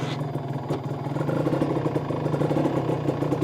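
A Honda NSR RR two-stroke sport motorcycle runs close by, its engine holding a steady, buzzing, rattly idle with a faint rise in revs, loud and continuous throughout with no talking.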